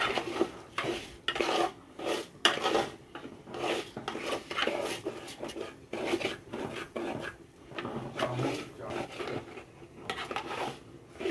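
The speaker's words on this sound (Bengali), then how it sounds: "চাল দিয়ে অমরত নাড়তে থাকবেন, ভালোভাবে চালটা ভাজতে হবে" Raw rice is stirred and dry-fried in a pot for morog polao, giving repeated scraping and rasping strokes in an uneven rhythm, close and fairly quiet.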